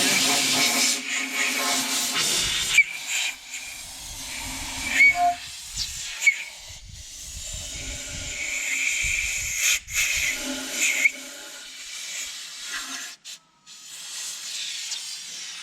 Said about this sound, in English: Just want to make sure these surfaces are nice and clean. We'll use a little compressed air.